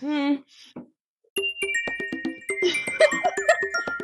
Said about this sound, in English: double bell ring for that shit